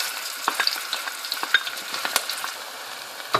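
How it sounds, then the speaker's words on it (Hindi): Onions fry in hot oil with a steady close sizzle, broken by scattered sharp crackles and pops and the occasional clink of stirring, with no talking. "ये तेल गर्म हो चुका है, मैं इसमें प्याज डाल के फ्राई करती हूँ।"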